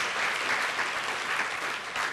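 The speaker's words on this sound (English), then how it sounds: "One more round of applause for all of them." Applause from an audience for senators at an annual meeting, a dense, steady wash of many clapping hands filling the whole stretch at a constant, fairly loud level, with no talking over it.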